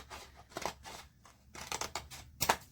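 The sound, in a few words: scissors cutting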